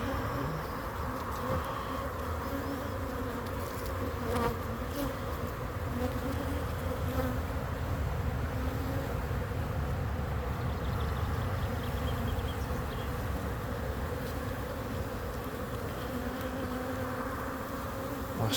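Honeybees hum steadily around an open hive during a spring apiary inspection, a dense continuous buzz that stays close and even throughout with no voices over it.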